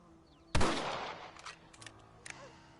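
A single loud rifle shot cracks out during shooting practice in Red Dead Redemption, followed by a decaying echo and a few fainter distant pops afterward.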